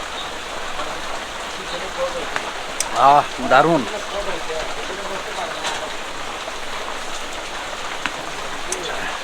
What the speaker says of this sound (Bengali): খুব বৃষ্টি হচ্ছে ধুম বৃষ্টি হচ্ছে